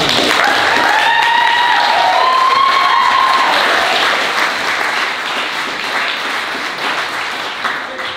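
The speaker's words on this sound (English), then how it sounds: "So James is going to come up now and give us your hand." An audience at a school folk night at Strathallan School applauds steadily as a performer comes up, with a voice singing or calling briefly over the clapping, which slowly fades.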